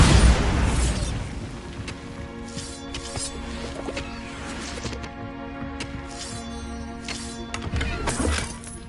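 A Bombarda spell detonates in Hogwarts Legacy with a loud booming blast and crackling debris at the start, then a ringing, tonal game score under scattered bursts, with another rumbling impact near the end.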